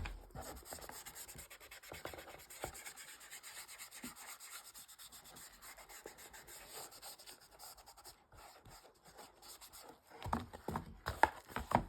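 Distressing ink rubbed around the edges of a journal cover, a quiet, close scratchy rubbing that continues irregularly, growing louder in a few harder strokes at the end.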